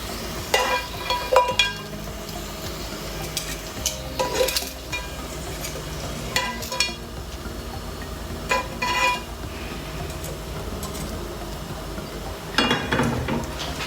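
Potato slices fry in a pan for a sandwich, giving a soft, steady sizzle broken up by the clinks and scrapes of a utensil against the pan.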